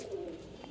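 Domestic pigeons in a loft give a soft, low, throaty coo, quiet and close, heard alone for a moment.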